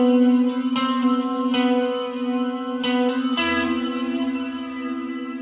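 Clean electric guitar with chorus and reverb playing a riff for a song intro, including a string struck but not fretted; several picked notes ring and sustain over a steady low tone, with no talking.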